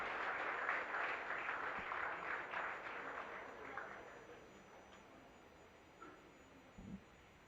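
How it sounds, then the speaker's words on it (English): Audience applause at an MBA and BBA freshers induction program, a broad wash of clapping from a crowd that is loud at first, then thins and fades out with a few scattered late claps. "Give a big round of applause for the unveiling event."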